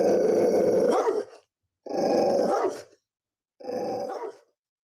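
A dog growls in three separate low, rumbling bursts, each about a second long with short silences between, close and fairly loud with no talking.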